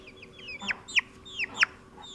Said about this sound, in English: a baby chick that was found wandering around a parking lot in Bay Ridge